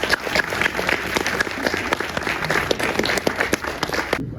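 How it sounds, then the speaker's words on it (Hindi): Loud, dense applause from a crowd at a Delhi Police retirement party, steady clapping filling the room for about four seconds before cutting off abruptly. "जोरदार तालियां।"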